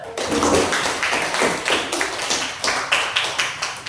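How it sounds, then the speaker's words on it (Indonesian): Hands clapping in a classroom group after a student presentation, a burst of moderately close, steady applause that tapers into a few scattered claps. "Tepuk tangannya dulu."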